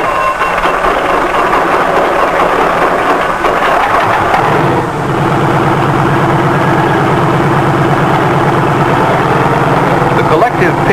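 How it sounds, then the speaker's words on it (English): A helicopter engine, started by a self-starter, warms up with a loud, steady low rumble and whine, and a voice talks over the sustained drone. "A self-starter starts the engine, and after a careful warm-up,"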